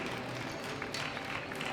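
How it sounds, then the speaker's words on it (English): An audience at a powerlifting world championship medal ceremony applauds steadily, with dense sustained clapping from a large crowd filling the hall throughout. "Give him a big round of applause."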